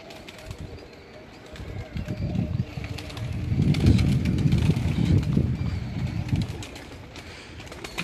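Paired pigeons in a rooftop cabin give deep, throaty coos that swell into a dense rumbling chorus through the middle, with a few sharp taps and faint background noise around them.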